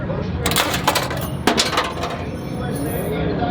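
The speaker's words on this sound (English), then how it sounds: "I'm gonna actuate it and see if I can't get this thing to start clicking." A car starter's Bendix solenoid on a bench test gives several sharp metallic clicks and clinks, loud and close, with a brief burst of them in the first two seconds before it quiets.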